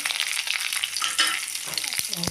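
Tempering spices crackle and sizzle in a little hot oil for a brinjal fry, a bright, busy spattering that runs on continuously, with a few stirring knocks near the end.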